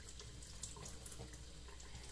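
Tap water runs steadily into a sink as makeup brushes are rinsed, a soft, faint, continuous splashing stream heard close by with no voices.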